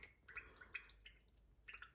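Coolant drips slowly from the drained cooling circuit of a 1990 Alfa Romeo Spider, faint scattered drops plinking irregularly into liquid over a quiet low hum.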